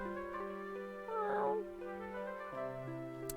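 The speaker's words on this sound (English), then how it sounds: "Kitty." A cat meows once, briefly, in the Nintendo DS game Dragon Quest 5, rising over steady looping background game music.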